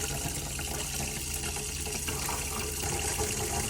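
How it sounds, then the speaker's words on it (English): Water runs steadily from a tap on a boat, with the line spluttering faintly where a little air is trapped, under the hum of the water pump; close and continuous, no talking. "You can hear just a little bit of air there."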